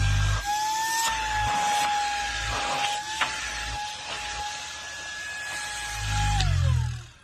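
A TASVAC cordless handheld vacuum cleaner runs steadily at close range with a sustained whine, starting just after the trigger is squeezed and winding down at the end, with handling bumps along the way and no talk.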